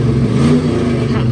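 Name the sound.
Jeep Cherokee engine revving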